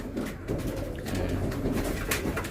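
Pigeons coo steadily and close by, several birds overlapping in a dense, continuous murmur.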